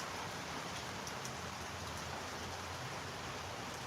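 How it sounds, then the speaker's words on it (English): Steady, dense wash of rain pouring down outdoors, continuous and even without breaks, with no voices over it. "It's pissing down with rain."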